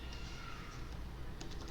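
Fingers type on a computer keyboard during a UiPath Studio programming session, a quiet string of soft rapid key clicks with a few sharper taps near the end.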